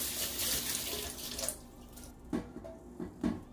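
Tap water runs steadily while hair dye is rinsed out, a broad hiss that cuts off partway, followed by a few short splashes and drips in a quiet room.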